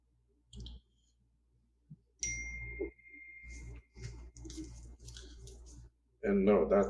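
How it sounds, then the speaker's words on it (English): Mobile phone notification ding, a short bright chime ringing out once amid nearby talk and clicking sounds indoors. "that was my phone"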